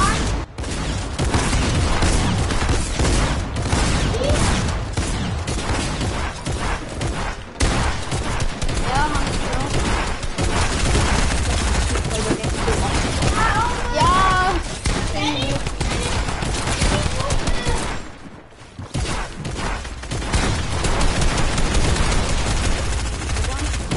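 Rapid video game gunfire, dense bursts of shots and machine-gun fire crackling almost continuously and loudly, with players' voices talking over it and a brief lull near the end.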